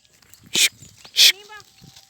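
A dog in a local outdoor setting gives two sharp, loud barks about half a second apart, followed by a brief whine, with someone talking around them.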